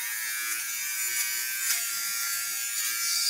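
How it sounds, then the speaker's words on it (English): An electric sweater shaver runs flat over fabric on a pair of Escada pants, giving a steady, close, high-pitched motor buzz for a few seconds with no talking. "This is a sweater shaver."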